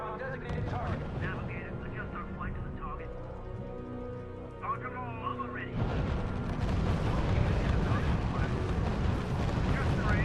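Artillery fire and explosions in the WWII strategy game R.U.S.E. at the Battle of Monte Cassino, Italy, start as a rumbling bed under game voices and music, then swell into a dense, loud, continuous barrage.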